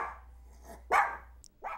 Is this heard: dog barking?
yes